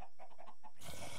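Chicken in a Minecraft-style video game, a quick series of soft clucks followed by a burst of louder, noisier game sound.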